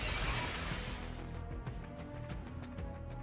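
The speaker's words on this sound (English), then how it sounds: "The familiar and terrifying sound of glass breaking fills the air" Glass shatters in NIKKE with a loud, dense crash at the start. It fades into a quick run of small, bright tinkling fragments that settle at a steady rhythm.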